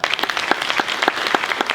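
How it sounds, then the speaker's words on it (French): Clapping from a festival audience at a social film festival screening, a busy, even wash of many hands applauding nearby for the whole short stretch, with no voices on top. "On peut l'applaudir."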